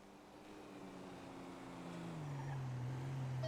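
A motorcycle engine in a roleplay game hums steadily at close range, its pitch rising gradually as it accelerates, alone with no talk.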